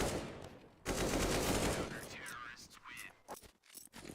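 Rapid spammed gunfire in Counter-Strike: Global Offensive on the map Nuke, a dense burst of shots followed by scattered shots and game effects, with a commentator's voice partly over it.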